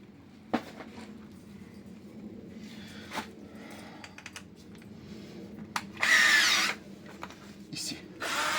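Power tool sanding the sliding part of a brake caliper on a 2000s Volkswagen Golf 6 1.4 16V, heard as a short loud burst of grinding about two-thirds through, with scattered clanks and shop noise before it and no talk.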